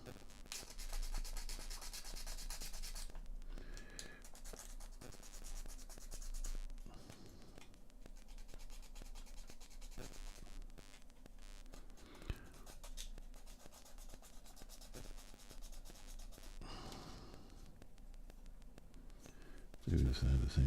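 Wooden click-together 3D model pieces are rubbed and sanded by hand in quiet, scratchy strokes that come in bursts with short pauses, close and soft, ending in a louder handling noise.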